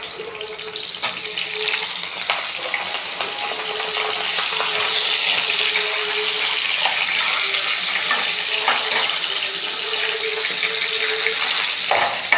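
Onion, green chili and curry leaves fry with fenugreek in hot oil, a steady close sizzle and crackle running throughout with occasional stirring scrapes, no voices.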